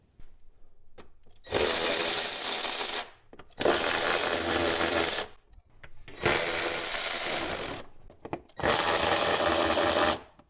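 A power driver with an 8 mm socket backs out airbox screws on a 2009–2015 Honda Pilot intake: four loud, close whirring runs of about one and a half seconds each, separated by short pauses.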